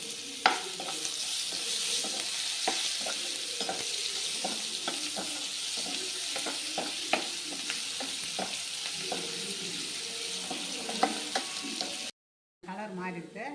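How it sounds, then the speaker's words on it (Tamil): Chopped onion frying and sizzling in a pan with a steady hiss, punctuated by clinks and scrapes of stirring; the sound cuts out briefly near the end. "இப்போ ஒரே ஒரு வெங்காயம் அரிஞ்சு வச்சுருக்கிறேன், அதை போட்டுக்கலாம். வெங்காயம் நல்லா வதங்கணும்."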